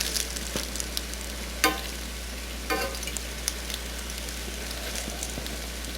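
Frybread fries in hot oil in a home kitchen, a steady crackling sizzle with scattered pops and a few louder spatters, close by and continuous without talk.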